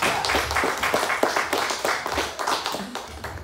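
A church congregation claps together in a burst of irregular overlapping hand claps that fades slightly toward the end, with no talking.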